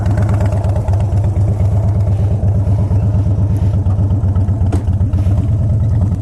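A 2009 Harley-Davidson Super Glide fitted with Vance & Hines pipes rumbles along with a loud, steady, deep engine pulse, its rapid regular firing beat continuous and close throughout.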